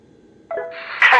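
A bypass pin slots into the front wheel of an aircraft in the AirportSim game, giving a short clicking insertion followed by a brighter metallic snap, brief and close with no talking.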